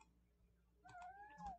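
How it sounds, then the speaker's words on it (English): A single soft cat meow, rising and then falling, in an otherwise quiet room. "That was my cat."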